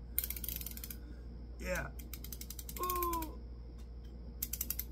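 Quick bursts of rapid ratcheting clicks from a torque wrench held up near the head, repeated several times close by, with a short voiced sound in between.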